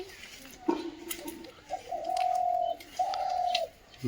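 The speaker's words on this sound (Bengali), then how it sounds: "দুটো ঘুঘু পাখি দেখো পেয়ারা গাছে" Two doves in a guava tree cooing nearby, a few soft, drawn-out hollow coos in a slow sequence over a faint outdoor background.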